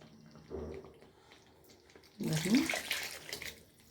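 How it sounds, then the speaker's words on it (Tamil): Tamarind water poured into a cooking pan while making jackfruit seed kara kuzhambu, a splashing, running liquid sound that swells midway and continues steadily, with a softer earlier splash and quiet kitchen background. "அந்த புளி தண்ணியை ஊற்றிக்கலாம்"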